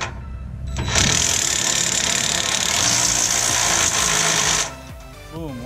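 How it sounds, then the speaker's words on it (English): A power drill whirs loudly and continuously for several seconds as it drives a screw into a trailer add-on, then stops, with a voice talking briefly afterward. "I'm going to hold it while I drill it in."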